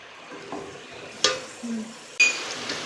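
Onions softening in oil in a pan for dhaba-style mash daal, with a faint low sizzle broken by a few sharp clinks and scrapes of a spoon stirring.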